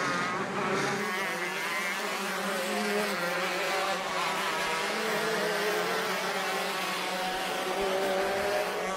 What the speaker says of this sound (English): 3 classes out on track for our final qualifying session of the day.